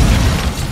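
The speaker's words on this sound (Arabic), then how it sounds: "ارمي لها قنبله يدويه" A grenade blast in the video game Call of Duty Warzone 2, a loud, brief, low-heavy boom with a rumbling tail that fills the short moment on its own.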